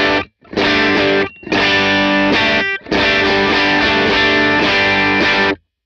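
Dry, distorted electric guitar chords from a Line 6 Helix LT ring out loud and close, sustained in long strums separated by a few brief silent breaks, with no echo trailing off.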